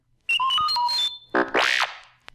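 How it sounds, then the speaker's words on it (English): A robot chirps and warbles through a quick run of electronic beeps and whistles, ending with a rising-falling squeal and a tiny click. "You will know it is time to turn the page when you hear R2-D2 beep like this"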